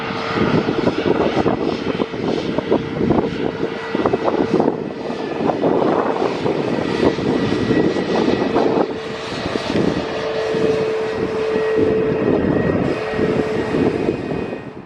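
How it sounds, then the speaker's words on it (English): Airplanes that have just landed taxi toward the listener at Stockholm Arlanda airport in the early evening, their engines a loud continuous roar and whine that swells and shifts in pitch throughout. "Here we go then with the two that just landed, taxiing towards us."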